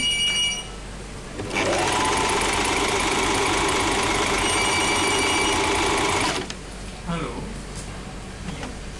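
A Singer 1408 Promise sewing machine runs a straight stitch, giving a close, steady mechanical whir for about five seconds, with quieter sounds and a voice before and after.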